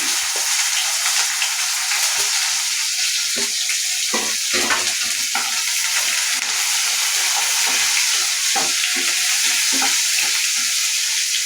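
Mustard seeds, curry leaves and onion frying in hot oil for a soya chunk and avarekalu gravy: a loud, continuous sizzle with crackling spatter and occasional stirring clinks, close and steady throughout.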